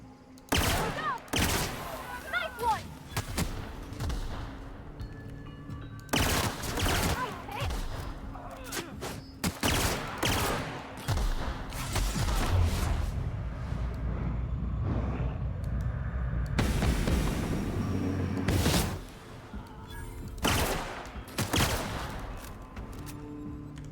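Gunfire in The Outer Worlds video game, with a sniper rifle in the fight: scattered loud shots and bursts arrive irregularly over the stretch, mixed with thuds and game ambience, and a voice talks intermittently.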